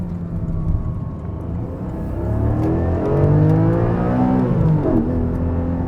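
A Porsche 718 GTS 4.0 engine accelerates from inside the cabin, its tone climbing through the revs in a loud, smooth rise with a shift near the end before pulling again.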